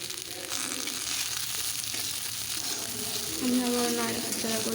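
Onion flower stalks fry and sizzle in a pan with salt and turmeric, a steady broadband hiss with a spatula stirring through them, close and moderately loud, with a faint voice or tonal sound emerging near the end.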